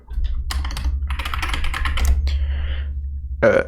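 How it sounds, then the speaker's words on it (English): Keys clatter in quick, uneven bursts on a computer keyboard as a search is typed, close and fairly loud, with a low steady hum underneath and a short sharper sound near the end. "Type in Barnabas."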